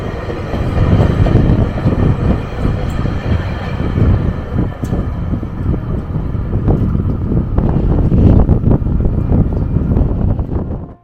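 A train rolls into a station in Canada with a loud, continuous rumble that swells toward the end, while wind buffets the microphone throughout.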